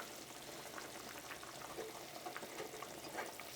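Sardine curry in coconut milk simmering in a clay pot, a soft continuous bubbling hiss with small pops, close and fairly quiet, no voices.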